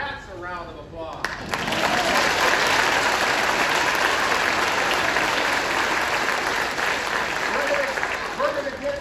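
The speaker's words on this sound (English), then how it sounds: "That's a round of applause." Audience at a school band concert of over a hundred sixth-grade kids breaks into a loud, sustained round of applause, rising after a brief voice at the start and staying dense and steady to the end.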